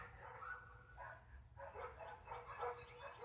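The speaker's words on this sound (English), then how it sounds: "it's a dog fight in the neighborhood." Several dogs bark and yip in a neighborhood dog fight, a faint, far-off jumble of overlapping barks over steady low background rumble.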